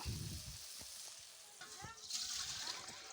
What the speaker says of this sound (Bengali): এবার ভালো করে মশলাটা কষে নিচ্ছি